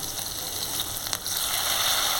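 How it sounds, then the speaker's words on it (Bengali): Tomatoes frying in sizzling oil in a pan for a spicy Bengali fish curry, a dense, steady hiss with a brief dip in the middle, close by and without talk. "তারপর দেব হচ্ছে টমেটো।"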